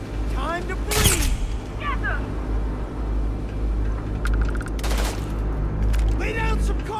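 A Starfield space battle, with sharp bursts of gunfire and weapon effects over a steady low rumble, mixed with in-game voices.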